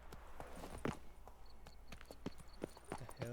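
Hooves of Roach, a horse in The Witcher 3: Blood and Wine, clip-clop in a quick irregular rhythm, close and fairly loud, mixed with other game sounds and brief vocal noises.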